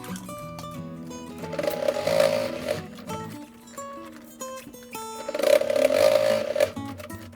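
A sewing machine stitches the seams of a bag lining in two whirring runs, with quieter handling and mechanical sounds between them.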